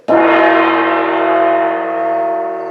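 A Korean gong of the kind used in Buddhist parades is struck once, booming out with a rich, shimmering tone that sustains loud and steady for several seconds with no talk.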